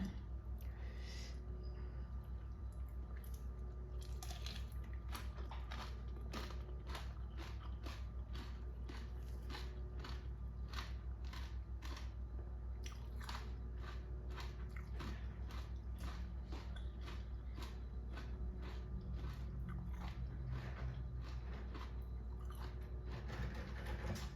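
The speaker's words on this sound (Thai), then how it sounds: "กินเงือกกุ้งน้ำกัน" Boiled shrimp heads being bitten and chewed up close, with a steady series of crunchy, wet bites and chewing clicks over about twenty seconds and no talking.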